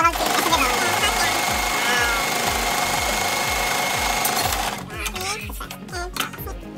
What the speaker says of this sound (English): we go back to sewing